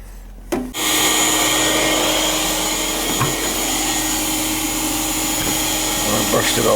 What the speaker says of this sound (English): vacuum it and brush it down